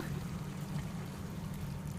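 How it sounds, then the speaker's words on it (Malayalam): A cup of water poured into a Kerala-style green chicken curry, a steady low pouring rush that holds for about two seconds, close and alone without any talk. "ഇതിലോട്ട് നമുക്ക് ഒരു കപ്പ് വെള്ളം ഒഴിക്കാം"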